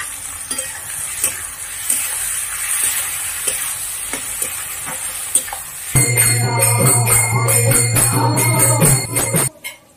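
Tomatoes sizzle and fry with onions in a pan with stirring, then a louder burst of clattering and tonal ringing joins in before cutting off.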